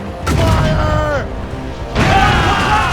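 Two bursts of ship cannon fire ring out in an Assassin's Creed Rogue sea battle, the first at the start and the second at the two-second mark, each a loud booming volley mixed with shouting voices.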